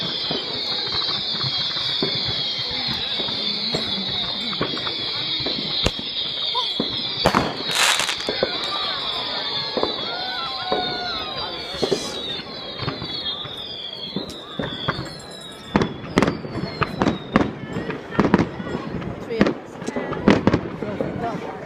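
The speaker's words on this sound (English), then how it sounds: "It's just fireworks." New Year fireworks exploding outdoors: repeated sharp bangs and crackling bursts, some close and loud, others distant, with whistling rising tones early on and a busy volley later, people talking and cheering throughout.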